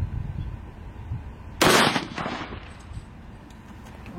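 Rifle firing a double load of two heavy solid bullets at once, a single sharp loud report partway through, with a short echoing decay over quiet outdoor background.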